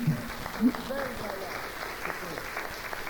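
Audience applause at a 1985 radio show concert party in Eus, a soft, continuous patter of many hands heard at a moderate distance, with voices talking over it.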